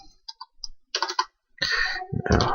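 Computer keyboard typing at a Windows Run prompt, with a handful of close, distinct key clicks in short irregular bursts and a louder final keystroke, no talking.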